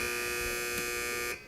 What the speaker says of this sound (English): Teams wait for the buzzer.